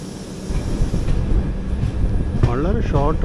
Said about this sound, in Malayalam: അപ്പം നമ്മളങ്ങനെ ഭട്കലിൽ നിന്ന് പുറപ്പെടുകയാണ്.